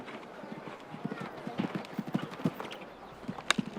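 Horse hooves clip-clop in an irregular rhythm on a show jumping grand prix course, faint and somewhat distant, with an announcer talking over them.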